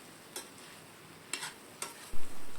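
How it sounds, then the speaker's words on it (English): Onions soften in hot oil in a pan, giving a low steady sizzle with a few soft clinks of a stirring utensil and a dull knock near the end. "Now saute the onions until it turns soft in texture."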